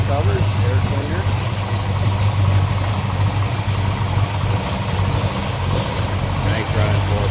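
A 1969 Plymouth Satellite's 440 V8 with MSD ignition idles steadily at close range, a loud, even, rumbling drone with a faint rhythmic lope that runs unbroken throughout.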